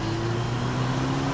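A 2008 Mercedes SLK 200 Kompressor with automatic gearbox accelerating on a motorway, a steady loud engine drone with rising tonal whine over road and wind roar, heard from inside the cabin.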